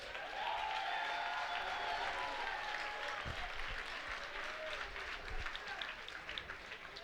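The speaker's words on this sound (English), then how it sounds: "a round of applause." An audience at a kickboxing event breaks into sustained applause that fills the hall, loud and continuous, with a few low thumps and indistinct crowd voices mixed in.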